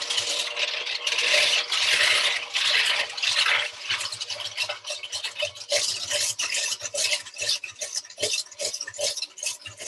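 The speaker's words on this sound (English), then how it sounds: "using a whisk or a hand whisk, you start making the cream" Cream for tiramisu is beaten by hand with a whisk in a bowl, a fast rapid scraping and ticking of wire against the bowl, close and continuous with brief pauses.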